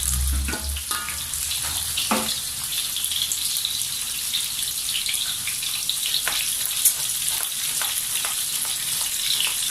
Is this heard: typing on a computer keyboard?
no